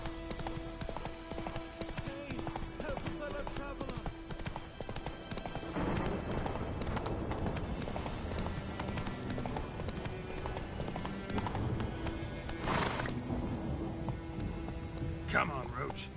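Roach the horse gallops in The Witcher 3 with rapid, repeated hoofbeats over a wash of rain and game ambience, while a voice talks intermittently.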